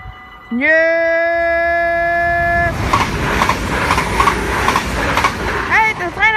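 A train at Maasbracht station in the Netherlands opens with a long, loud multi-tone horn blast, then rolls past close by with rumbling wheels and rhythmic clatter, ending in a brief second horn; a short spoken word comes near the end.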